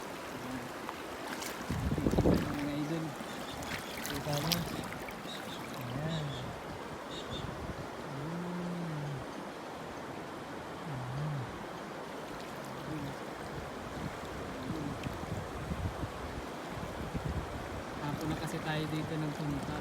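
Gentle current of a clear, clean river at a swimming spot, a continuous low rush of water near the microphone with some wind buffeting, while someone talks over it throughout.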